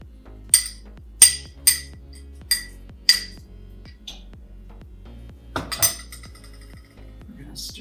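A spoon stirs a dish seasoned with pepper and feta cheese, striking the bowl in a series of sharp, bright clinks about every half second, then a few softer taps and a brief rattle near the end.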